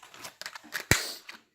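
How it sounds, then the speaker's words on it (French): Scissors snip through packaging from a United Bricks order, a few close crisp cuts and rustles ending in one sharp snap, then silence. "Les ciseaux, venez-moi en aide."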